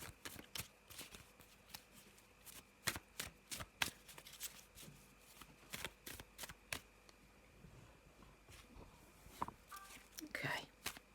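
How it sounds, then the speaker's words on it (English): Tarot and oracle cards are shuffled by hand in a quick run of crisp riffles and soft slaps, close and fairly quiet, repeating irregularly with brief pauses and no talk. "have a little shuffle and see what the tarot and our oracle cards have for us to look at this week"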